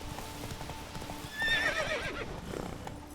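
Horse Roach from The Witcher 3 video game gallops with steady clip-clop hoofbeats, then lets out a loud, clear neigh in the middle of the run.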